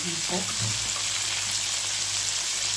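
Spice mix with turmeric frying in a pan for a Bengali vegetarian vegetable dish, a loud continuous sizzle with a few soft utensil knocks near the start.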